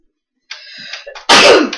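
A single sharp sneeze from a nearby person bursts out after a brief breathy intake, loud and explosive in a quiet room, trailing off quickly.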